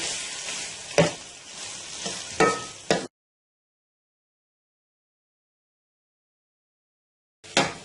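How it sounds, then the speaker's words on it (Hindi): Minced meat and peas fry in a pan with a soft, steady sizzle broken by a few sharp scrapes of stirring, then the sound cuts off into silence before a brief return of sizzling. "मटर डालने के बाद हम इसको 2 से 3 मिनट तक फिर भूनेंगे अच्छे तरीके से"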